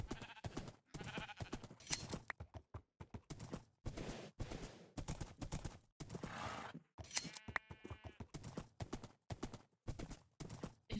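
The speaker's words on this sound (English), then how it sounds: "More pink sheep." Sheep bleat in a video game, a run of short, close calls mixed with clip-clop hoof sounds from a ridden horse and other game effects, with no talking.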